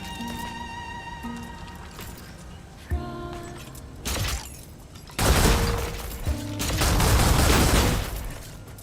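Gunfire crackles in a video game over a droning musical background, starting with a couple of short isolated bursts and building into a long, loud volley of rapid shots.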